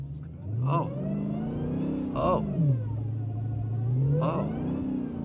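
A Dodge Demon 170 in drag mode on a rainy road gives a deep engine drone that rises and falls in pitch through repeated shifts, with people talking over it.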